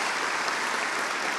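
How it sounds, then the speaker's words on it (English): Audience applause at a high school all-county band concert, a steady wash of clapping that holds evenly throughout. "Just go ahead and give him a round of applause"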